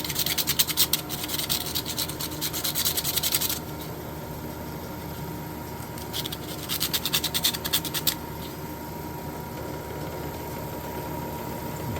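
A metal piece sharpened by scraping: rapid rasping scratch strokes in two bursts over a low steady hum, with quieter pauses between.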